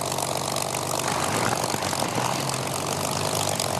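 An aircraft engine hot start, a dense, steady roar of a running engine with broad rushing noise and low throbbing, loud and continuous throughout without voices.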